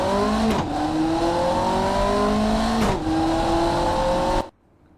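A fast car in the Automation game accelerates hard, engine tone climbing through gears with two brief shift dips, loud and steady, then cutting off abruptly near the end.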